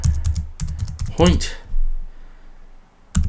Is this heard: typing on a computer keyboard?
yes